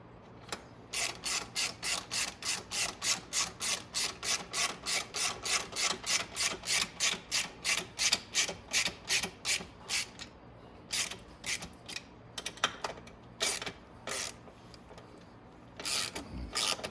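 A ratchet drives bolts into the cylinder head of a Venom X22r 250cc motorcycle, giving a fast, even run of close clicking strokes that later breaks into short irregular bursts with pauses.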